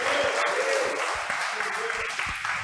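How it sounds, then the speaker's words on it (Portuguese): Church congregation clapping steadily and loudly through a live worship service, a dense continuous wash of hands with voices murmuring underneath. "Você pode aplaudir o Senhor bem forte,"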